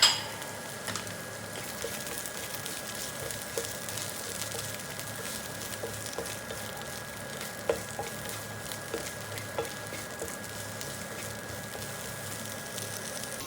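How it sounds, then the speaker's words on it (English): Onions sizzle and fry steadily in a hot pan for Mongolian beef, a continuous close crackle with a few small clicks of stirring and no talking. "Add the onions to the pan."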